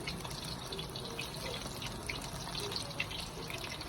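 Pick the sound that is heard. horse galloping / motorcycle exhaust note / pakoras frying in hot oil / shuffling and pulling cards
pakoras frying in hot oil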